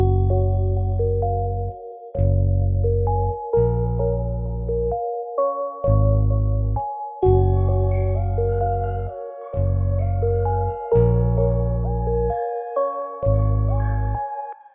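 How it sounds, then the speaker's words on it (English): A produced electronic beat section plays a melodic synth pattern over deep, pulsing bass notes that come in evenly spaced blocks with short gaps, loud and clean with no voices. "So all together, the beat section sounds like this."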